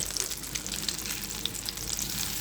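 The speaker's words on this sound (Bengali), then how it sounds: "এই যে উল্টে পাল্টে খুব সুন্দর করে ভেজে নিচ্ছি" Food sizzles and crackles in hot oil, a steady close frying hiss with scattered bright pops.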